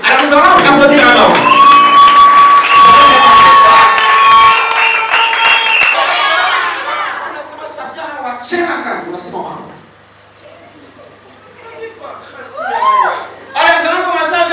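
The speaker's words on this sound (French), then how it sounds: "Alors nous allons applaudir alors." Congregation clapping and cheering at a December 25 Christmas church service, loud and dense at first with music-like tones, then thinning into scattered claps and voices, with a brief burst of shouting near the end.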